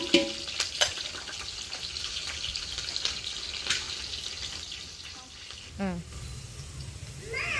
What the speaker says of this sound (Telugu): పచ్చిమిర్చి, ఉల్లిపాయ అయితే బాగా ఫ్రై అయింది కదండి